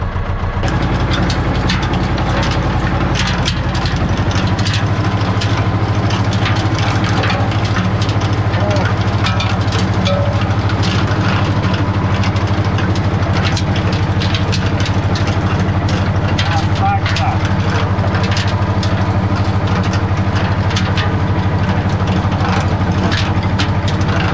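A large tractor engine runs steadily on a farm where silage piles are being packed and covered, a deep continuous rumble with a low drone settling in after a few seconds, with voices talking over it.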